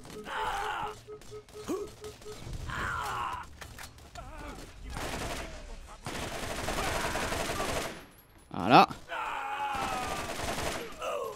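Rapid gunfire in Borderlands GOTY Enhanced, with bursts of shots broken by short pauses and mixed with groans and game effects, growing loudest near the end.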